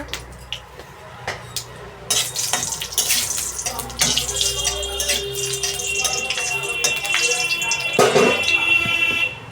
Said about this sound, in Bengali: প্রথমে শুকনো লঙ্কাগুলো ভেজে নেব